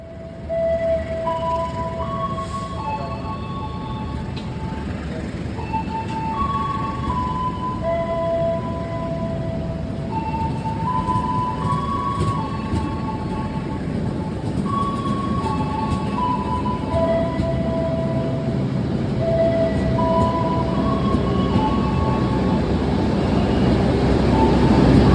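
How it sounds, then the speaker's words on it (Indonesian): The Serayu passenger train pulls away from a station with a low rumbling roll that builds gradually, overlaid by a series of clear tonal whistles or chimes sounding in stepped patterns, with no talk. "kini giliran kereta api Serayu diberangkatkan"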